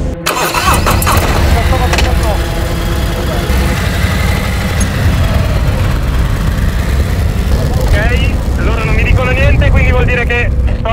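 A motorcycle engine cranks and fires up, then settles into a loud, steady idle with revs rising near the end, while people talk nearby.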